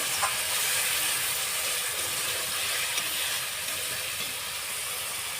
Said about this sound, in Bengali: এখানে আমি অল্প সামান্য জল দিয়ে দিলাম দেখুন আমি বেশি জল দিইনি